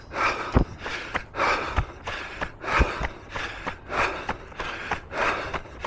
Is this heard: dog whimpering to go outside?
no